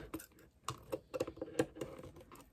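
Scissors snipping through material while cups and mini cakes are being made, a quick run of small, sharp close-up clicks and cuts with a faint tapping patter.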